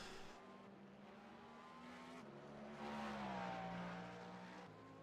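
A Cadillac race car in a multi-class Le Mans racing video game, its engine droning steadily and rising in pitch as it pulls past, with a gear change partway through, moderately loud and alone.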